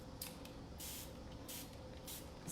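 Paint product sprayed onto a wooden dresser in several short, hissing bursts of uneven length, some brief and some longer, close and steady over a low background hum.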